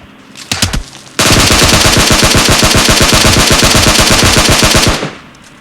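An M4 rifle fires in a video game, PUBG: two short bursts, then a long unbroken automatic stream of loud, close shots in an even rapid rhythm that cuts off abruptly.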